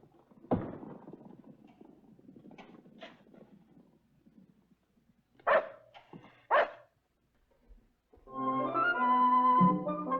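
Dog barking at night near a stable in an old western setting: two sharp barks at mid-distance after a stretch of low rustling, then a louder close bark with a harmonic, yelping tone.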